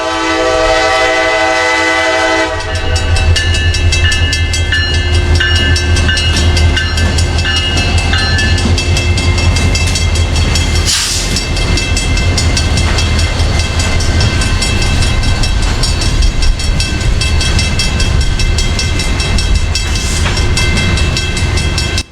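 A CSX freight train led by an SD40-3 rebuild locomotive passes close by near Tampa Bay. Tonal horn-like blasts open the clip, then a loud, continuous rumble of the locomotive and rail cars follows, with steady wheel and rail noise throughout.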